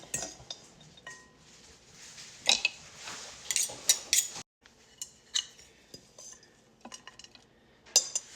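Kale salad dressed with lemon juice is tossed in a bowl, giving soft irregular scrapes and a few sharp clinks of utensils against the dish, fairly close and with no talking.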